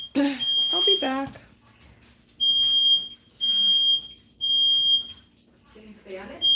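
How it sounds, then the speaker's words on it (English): A household smoke alarm sounds in a home kitchen during meal prep, a shrill piercing tone repeating in four or five steady second-long beeps, with a person talking briefly at the start and end. "I set off the alarm in the house."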